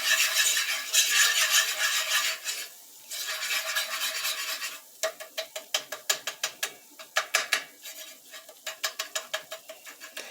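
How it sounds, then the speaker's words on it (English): A flour roux cooks in a pan while being stirred: a close hiss of frying at first, then a rapid series of sharp scraping clicks from the utensil against the pan in quick, regular strokes, with no speech. "We're just going to start letting that cook that raw flour taste out."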